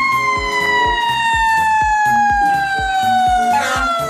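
Toy fire truck siren plays a steady electronic wail over a rapid repeating beat of melody tones, loud and close, continuing throughout without talk.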